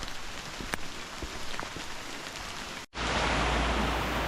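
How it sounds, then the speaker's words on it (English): Heavy rain pours down in a Costa Rican rainforest, heard from under a small shelter as a dense hiss with scattered louder drops, then a sudden brief dip before it returns even louder and steadier. "Here comes the rain again. It's pouring."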